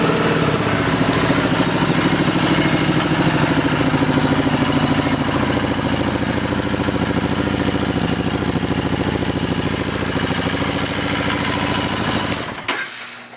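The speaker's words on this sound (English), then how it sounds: "Let's listen to the exhaust." A 2017 Harley-Davidson Street 750 with a Screaming Eagle exhaust idles close and loud, a steady throbbing rumble that runs unbroken for about twelve seconds before cutting off abruptly.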